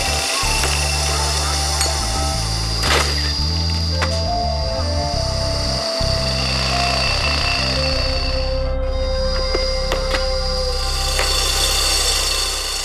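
Loud, continuous compressor-driven pneumatic drilling hammers away with a dense rattling roar, pitch shifting slightly as bits chatter into solid pink granite.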